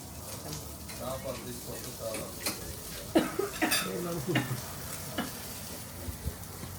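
Bread frying in a pan at an outdoor meal in Orhaniye, Marmaris, a soft sizzle under clinking cutlery, dishes and stirring, with people talking nearby.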